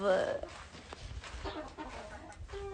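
Chickens and chicks clucking in a farm pen, close soft clucks and peeps, with someone talking over them.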